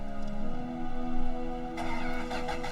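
Car with a manual transmission starting up, its engine humming steadily then rising into a rev with a brighter burst near the end, fairly close and alone.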